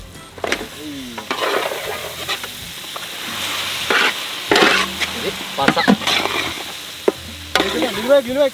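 Marinated mutton pieces tumble into a hot pot and get stirred for a large batch of nalli mutton biryani, with scraping and sizzling spread across the clip, loud and close, alone without talk.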